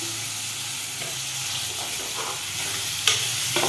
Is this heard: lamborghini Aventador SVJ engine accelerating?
no